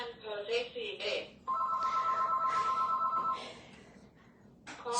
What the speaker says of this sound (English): the phone's going